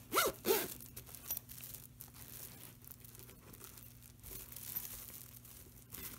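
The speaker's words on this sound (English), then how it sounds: "Once you've cut the excess zipper tape off" Scissors cut through excess zipper tape on a sewn lunch bag, giving a couple of close, crisp snips at the start followed by faint rustling handling noise.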